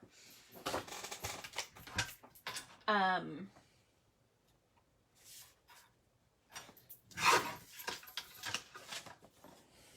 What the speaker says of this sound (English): Let me trim it quick.